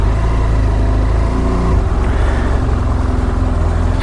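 A BMW F800GT twin-cylinder motorcycle engine while riding, giving a loud, steady, close drone mixed with rushing wind and no talking.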